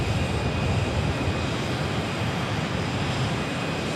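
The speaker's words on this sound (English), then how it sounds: "It is Delta Airlines 1070, an A330 from Detroit." A Delta Airlines A330 jet roars past an airport, a loud broadband rushing drone that holds steady throughout with no voices over it.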